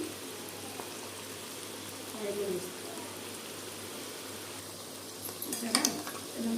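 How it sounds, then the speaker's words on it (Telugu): Onion pakoda frying in hot oil, with a soft, continuous bubbling sizzle in the background and a few faint clinks of a utensil near the end. No one speaks. "కొంచెం రెడ్డిష్ వచ్చిన వరకు మనం ఫ్రై చేసుకోవాలి"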